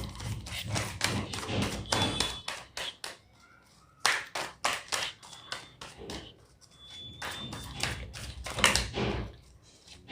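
Tarot cards being shuffled by hand and laid out during a reading, with repeated short slaps, taps and thuds in bursts, a few brief pauses between clusters, close and fairly clear.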